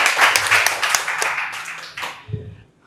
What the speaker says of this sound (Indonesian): sekali lagi tepuk tangan untuk kita semua